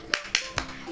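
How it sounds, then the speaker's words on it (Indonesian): A short rhythmic clapping routine for children, three sharp claps spaced evenly and close by, with no talking. "Oke, kita mulai ya tepuk semangatnya."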